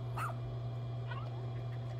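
A small rescue pup in the video game Pikmin 4 gives a short yip or whimpering bark near the start, then fainter soft dog whines over a steady low hum.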